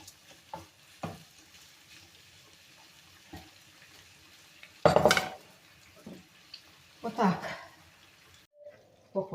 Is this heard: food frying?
yes